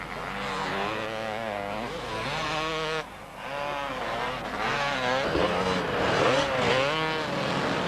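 Several Honda 500 and other motorcycles racing on a sand beach course, engines screaming and revving loudly as they pass close by, overlapping whines rising and falling throughout.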